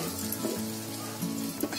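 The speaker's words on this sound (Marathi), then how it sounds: "तो पण असा थोडा भाजून घ्यायचा" Dry grated coconut, ground fine, roasting in a pan, a soft continuous sizzle with a couple of faint stirring scrapes, brief and close, no talk.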